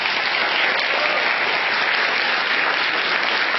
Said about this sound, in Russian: Спасибо за аплодисменты.